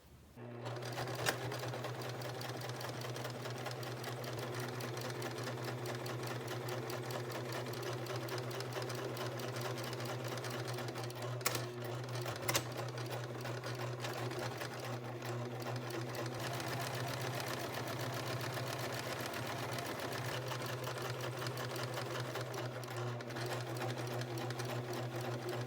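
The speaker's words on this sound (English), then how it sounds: "I'm going to sew along all 4." A sewing machine stitches steadily along marked lines on a crop top, a continuous close rapid whirring hum with a couple of brief clicks and pauses throughout.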